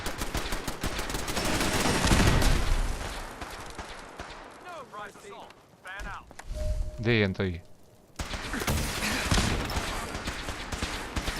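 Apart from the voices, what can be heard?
gunfire in a video game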